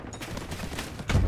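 Dense gunfire and explosions in the chaotic war shooter Delta Force, a sustained fusillade of overlapping shots with a louder burst near the end.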